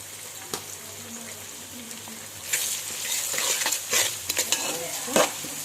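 A spoon stirs fish fry masala with turmeric, salt and fresh coriander in a pan, giving soft scraping and clinking strokes over a faint sizzle that grows busier in the second half.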